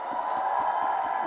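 A festival audience in Jaipur cheers, whoops and applauds, a dense, steady roar of crowd noise that stays loud and unbroken throughout.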